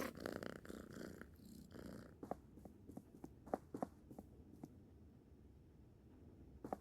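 A cat in the video game Slender Threads purrs softly, with a rough, low rumble that is faint and quiet, broken by scattered light taps and footstep-like clicks in a hushed scene without talk.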